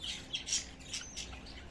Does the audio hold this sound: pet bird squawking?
yes